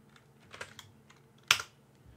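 A few light keystrokes tapped on a computer keyboard while entering a value into a time range box on a measurement program, with one sharper, louder key press near the end, heard alone in a quiet room.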